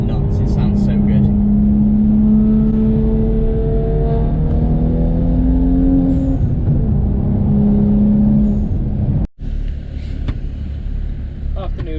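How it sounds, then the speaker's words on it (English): A BMW M235i accelerates hard, its engine note climbing steadily and loudly from inside the car for several seconds before a brief gap and a lower, settled drone. "let's open this car up a little bit. You can hear the sound of it, it's honestly absolutely nuts"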